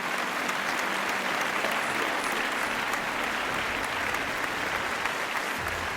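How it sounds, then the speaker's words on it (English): A round of applause from a crowd, steady and dense throughout, with no talk over it. "So let's just give a round of applause for that."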